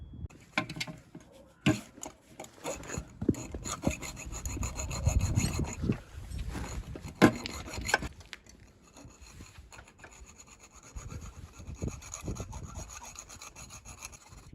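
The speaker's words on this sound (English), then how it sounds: "reattach the hacksaw. Cool, so once you're back in, you just need to start cutting" Hacksaw cutting through the lower engine mount bush of a Mitsubishi Evolution 6: repeated rough rasping back-and-forth strokes, close and moderately loud, irregular in pace, with some knocks and pauses between bursts.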